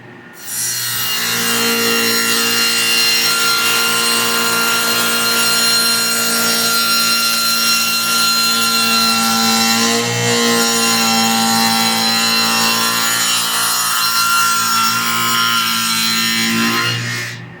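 Table saw fitted with a cheap dado blade set cutting a dado groove in pre-finished board, a steady loud whining cut lasting over fifteen seconds with a slight dip midway, no voices.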